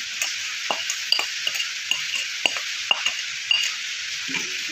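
A spoon stirs a pot of nila pindang fish stew with galangal, sugar, salt and pepper, scraping and knocking against the metal in irregular strokes over a soft sizzle.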